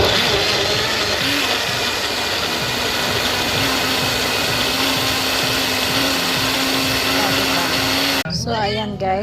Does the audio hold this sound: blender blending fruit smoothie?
yes